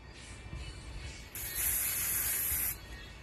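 A can of dry shampoo lets out a single close hissing spray burst lasting about a second, preceded by faint handling and a brief softer puff.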